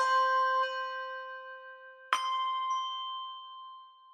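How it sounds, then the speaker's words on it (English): Two struck handbell notes from a virtual instrument ring with clear sustained tones, each fading gradually as the performer's thumb damps the bell, the second strike louder than the first. "you'll hear the virtual performer slowly mute the sound by putting their thumb against the bell"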